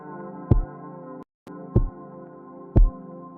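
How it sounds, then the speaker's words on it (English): Pitch-shifted, compressed kick drum from Minecraft music, thumping like a slow heartbeat: three deep, spaced thuds over a sustained eerie hum that cuts out briefly mid-clip. "it gives this kind of heartbeat sound that I wanted to have in the back of like some of these creepy noises"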